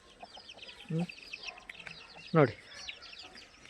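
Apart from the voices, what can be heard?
native country chickens clucking on a farm in Karnataka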